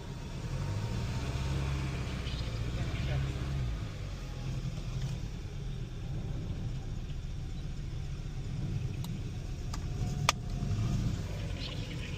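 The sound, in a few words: car engine running rough during alternator replacement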